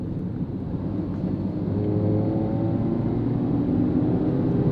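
An eleven-year-old Hyundai i20 with about 137,000 km on it pulls in second gear, its engine note holding a steady, loud drone that rises slightly in pitch as revs build, heard from inside the car with no talking.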